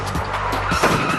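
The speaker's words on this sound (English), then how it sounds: "Braking." A car brakes hard with its tires skidding and squealing in a short, harsh burst over engine noise, loud and close.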